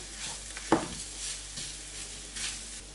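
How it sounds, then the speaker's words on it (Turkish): Tomato paste fries and sizzles in a hot pan, with a soft steady crackle, one sharp clack of a spoon against the pan and a few quiet stirring scrapes, close and alone. "Salçamızı da 1 dakika kadar kavuralım."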